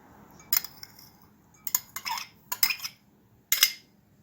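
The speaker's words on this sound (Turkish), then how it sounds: "Öncelikle rendelenmiş havucumuzu katıyoruz." Grated carrot being added to a green lentil and chickpea salad, heard as a few sharp utensil clinks and scrapes against a bowl in separate bursts, fairly quiet with no talking.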